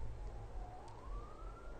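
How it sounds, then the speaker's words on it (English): Police siren passing outside, a faint rising wail heard from a distance beneath a low indoor hum, with no voices. "Oh, there's another siren."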